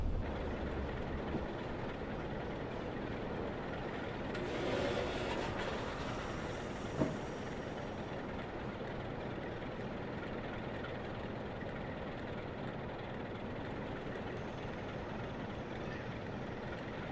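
A Class 47 diesel locomotive in Train Sim 2021 runs with a steady low engine drone and continuous rail rumble. A faint swell comes partway through, then a single sharp click.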